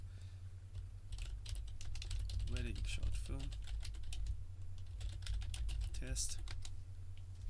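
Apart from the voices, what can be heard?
typing a file name on a computer keyboard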